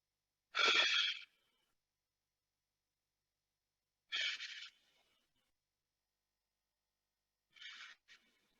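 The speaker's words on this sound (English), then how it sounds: "So breathe in." Three deep breaths during a lower-back stretch, each a short breathy rush spaced a few seconds apart, close and isolated against silence, with the last one split into two quick puffs.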